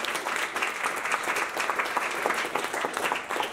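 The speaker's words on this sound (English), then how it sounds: "Please clap for that." Audience applause at an Ithaca College talk, a steady dense wash of clapping from a crowd, moderately loud and continuous throughout with no talk over it.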